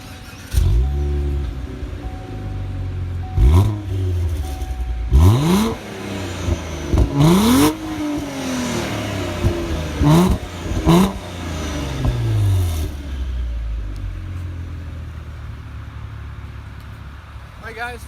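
A 2019 Cadillac ATS-V Coupe engine fires up nearby and is blipped through several sharp, loud revs that rise and fall before it settles into a calmer idle, with a voice briefly heard.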